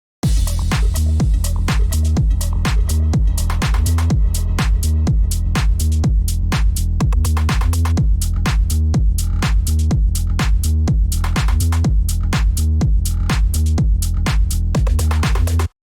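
A tech house drop still being built plays loud and dense, with a driving four-on-the-floor kick, rolling bass and percussion looping steadily, no talk.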